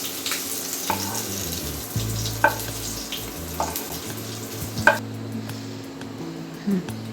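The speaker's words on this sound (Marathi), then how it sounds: "आता कांदा चांगला असा काळा होईपर्यंत भाजून द्यायचा" Onion roasting in a pan until darkened, giving a steady sizzle and fry with scattered stirring clatters and a few sharp utensil clicks, close and moderately loud.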